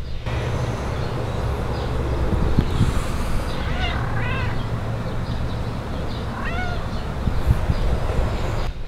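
A resting cat outdoors among date palms, with a few short meows rising over steady, loud wind or traffic rumble and some bird chirps.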